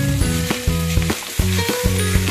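Ground pork sizzles steadily in hot oil in a pan, a dense continuous frying crackle close up, with faint stirring knocks and no talk.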